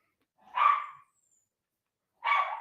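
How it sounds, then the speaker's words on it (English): A schnauzer named Tonka barks twice, two short sharp yaps about two seconds apart, moderately close, with silence in between. "can you hear the dog barking?"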